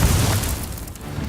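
A fire spell cast in Hogwarts Legacy gameplay bursts with a loud, booming blast that is strongest at the start and then rumbles down into a fading low tail, with no voices.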